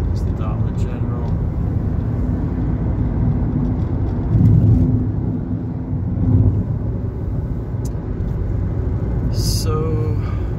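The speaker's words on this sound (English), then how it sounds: "there's nothing like driving at night" A car driving at night past roadside stores, its steady engine and road rumble filling the cabin while people talk quietly inside.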